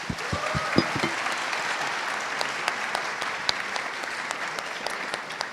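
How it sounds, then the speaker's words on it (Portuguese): An audience at a startup project pitch event applauds a presenter whose time ran out, a steady, full round of clapping with a few louder claps near the start, continuing evenly to the end. "Palmas para ele, gente."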